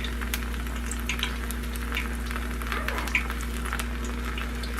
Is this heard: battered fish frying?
yes